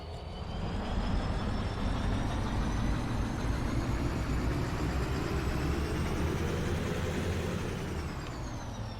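An EMD diesel locomotive in the Derail Valley video game, modelled on the GP-series, drones continuously with a steady low rumble and a faint rising whine, loud and close with no talk.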